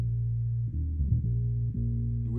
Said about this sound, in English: So that's the bass right there.